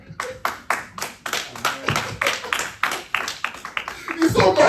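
A church congregation claps in a steady rhythm to acclaim the Lord, the close, sharp claps carrying over voices that sing or speak along.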